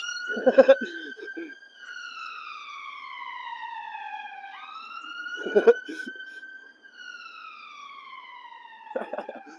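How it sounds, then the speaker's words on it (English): An ambulance siren sweeps up and down in long, steady tones in Edinburgh streets, fairly distant, with brief bursts of voices breaking in three times. "there's an ambulance"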